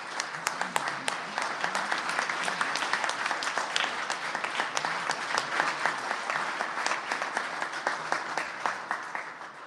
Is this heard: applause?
yes